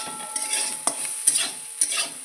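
Mixed vegetables, including pointed gourd and bitter gourd, sizzle steadily in a frying pan while a utensil stirs them with several sharp scraping clacks, close and without talk.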